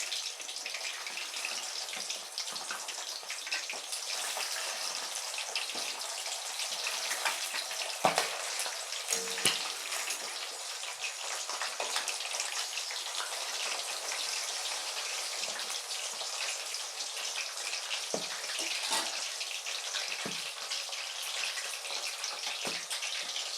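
Quail pieces deep frying in hot oil give a steady, dense hiss and bubbling that carries on without a break, with a few faint clinks partway through and no talking.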